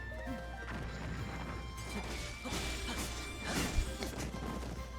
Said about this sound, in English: Now watch out for these bombs.